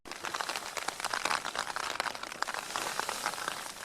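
Steady, dense patter of heavy rain drumming on taut tent fabric close overhead while wild camping in Scotland, continuous with many sharp individual drop taps, no voices.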